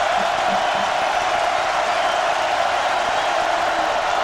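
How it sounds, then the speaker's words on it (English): A football stadium crowd at a BYU game gives a sustained, distant roar of boos and jeers, a steady wash of many voices filling the whole stretch. "And now they have to hear it from the crowd."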